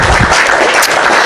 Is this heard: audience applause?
yes